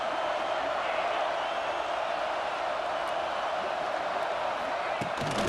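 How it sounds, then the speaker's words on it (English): A dense, steady roar from a large crowd at a college football game in EA Sports College Football 26, Michigan against Ohio State, loud and continuous throughout with no clear breaks. "The roar of the crowd trying to fuel this defense to keep them pinned in their own end."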